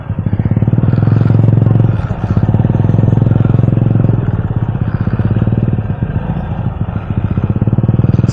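A motorcycle with bald tires rumbles steadily over a rough, bumpy road on the way to a church, its engine drone loud and close with rattling clatter from the uneven surface throughout.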